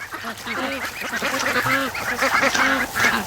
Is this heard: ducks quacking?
yes